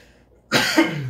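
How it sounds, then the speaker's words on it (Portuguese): A single close, sharp cough bursts out after a moment of near silence in an air-conditioned room, then trails off into a short rasping tail. "Já tossi."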